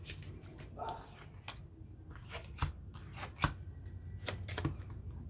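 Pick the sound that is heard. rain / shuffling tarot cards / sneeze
shuffling tarot cards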